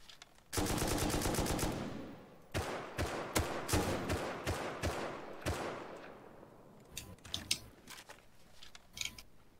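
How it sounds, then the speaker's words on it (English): Heavy enemy gunfire in Rust: a loud sustained automatic burst, then a string of sharp, evenly spaced shots and scattered later reports, all close and with no talking. "The heavy is just shooting at me."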